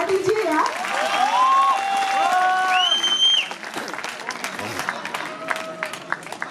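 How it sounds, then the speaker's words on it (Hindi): An audience claps loudly at a poetry recital, with applause and cheering filling the room before tapering off as a voice speaks. "आप तक कुछ व्यंग, कुछ बातें पहुंची हो तो जोरदार तालियां बजा दीजिए यार।"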